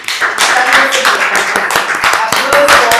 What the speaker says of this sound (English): Applause for all the speakers and the evaluator